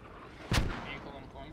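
A single deep mortar round booms in the Post Scriptum video game, a short heavy thump with a rumbling tail heard at moderate distance.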